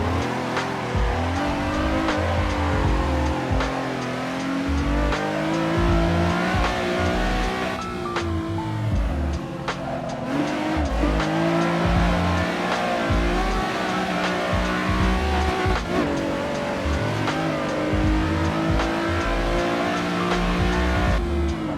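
A turbocharged drift car in the racing game Assetto Corsa roars continuously, its engine revving and shifting under loud, sustained tire squeal, with brief dips in throttle before the power surges back.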